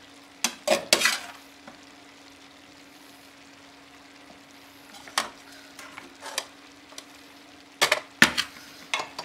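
Macaroni and minced meat get stirred in a pan. Clusters of sharp scraping and clattering strokes come in bursts, with quieter gaps between them, over a faint constant hum.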